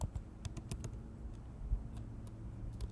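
Keys on a computer keyboard tap quickly in short bursts, faint and close, with a low background hum and no speech.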